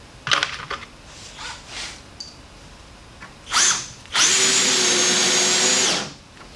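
A few short clicks and brief whirs, then a loud, close power drill drives a countersunk screw into a boat's rub rail, running steadily for about two seconds before stopping.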